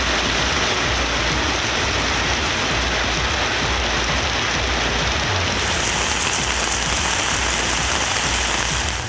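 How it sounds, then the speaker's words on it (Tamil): Heavy rain pours at night over villages in Tamil Nadu's Sivaganga area, a dense, loud and unbroken hiss of drops striking surfaces. "இரவில் மழை கொட்டி தீர்த்ததால் வெப்பம் தணிந்தது."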